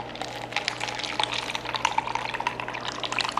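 A vodka cocktail with gold edible glitter poured from a cocktail shaker into a glass, giving a close, steady splashing liquid stream that runs for several seconds.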